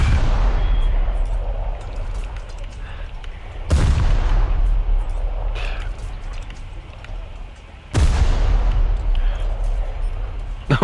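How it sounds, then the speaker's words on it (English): A plane blows up mid-air from bombs in War Thunder: two loud, sharp blasts land several seconds apart, each decaying into a rumbling roar over constant engine and battle noise. "He keeps exploding mid-air."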